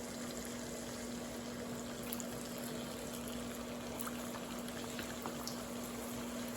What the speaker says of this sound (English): So we have the first same potato, same oil, but with potatoes this time.